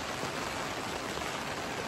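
Steady rain pours down over a village during the monsoon, a dense, even hiss of drops with no pauses across the whole stretch and no voices.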